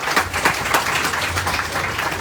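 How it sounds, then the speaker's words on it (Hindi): An audience claps steadily through a brief burst of applause at a Radhashtami devotional festival program, dense overlapping hand claps with a few sharper individual claps, with no talk heard. "इनके लिए ताली तो बजती है"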